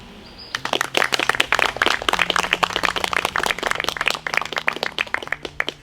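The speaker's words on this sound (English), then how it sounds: "Please give yourselves a round of applause." Parents clap at a graduation ceremony: a thin patter of separate handclaps from a small group, fairly close, starting abruptly and continuing unevenly for about five seconds.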